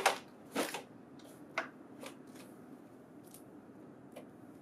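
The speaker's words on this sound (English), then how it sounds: "Flex, fan, and align the paper edges to avoid paper jams." A stack of printer paper is flexed and fanned during printer setup, giving a few crisp riffling flutters at the start and then fainter papery rustles over a quiet room hiss.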